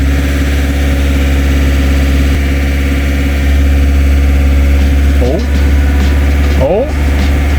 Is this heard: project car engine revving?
yes